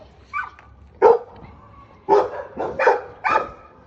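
A dog barks close by, a handful of sharp woofs spaced unevenly, the last three coming in quicker succession.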